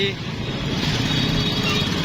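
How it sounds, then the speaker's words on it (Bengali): Auto rickshaw engine heard from inside while riding, a steady close motor drone with road rumble, a voice talking over it. "অটো নিয়ে যাচ্ছি"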